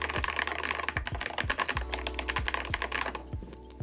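Fast, steady clacking of a loud mechanical keyboard, a Mechwild Clunker build, being typed on up close, each keystroke a sharp click with no voices.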